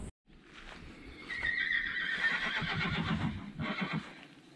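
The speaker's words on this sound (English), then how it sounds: "Yeah, we got the horses over here." A horse neighs with a long, loud whinny, heard close by over a low rumble of outdoor background noise in Theodore Roosevelt National Park, North Dakota badlands.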